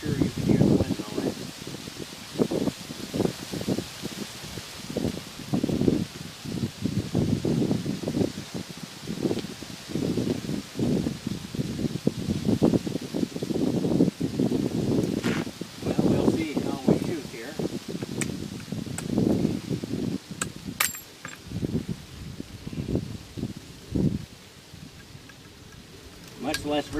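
Outdoor wind at a shooting range gusts and buffets a microphone in uneven low rumbling bursts, while someone talks over it throughout.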